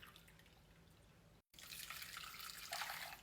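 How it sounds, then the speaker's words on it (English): Brewed coffee pours from a cup onto cocoa powder, a steady close liquid stream that briefly stops, then resumes fuller and splashier, with no talking. "Now we're gonna add another cup of coffee."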